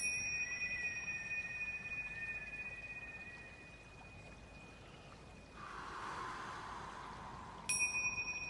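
A meditation bell rings out with a long, sustained metallic tone that slowly fades, then is struck again near the end with a fresh bright ring, alone in a quiet room.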